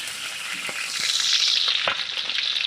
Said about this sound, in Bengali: মাছের মাথাগুলো ভেজে নিয়েছি এখন আমি উঠে নেব